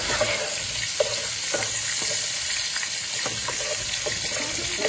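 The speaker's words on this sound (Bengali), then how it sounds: "এই জন্য মাছের মাথাটা খুব ভালো করে ভাজতে হবে" A fish head fries in a pan with a steady sizzle, broken by scattered pops and spits and a few clinks of the utensil.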